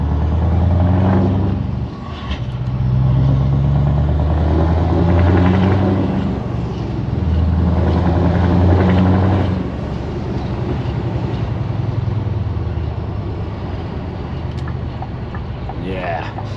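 A Scania R500 V8 truck rumbles loudly from its exhaust while driving, a deep continuous engine drone rising and falling with throttle and gear changes, heard up close without talk.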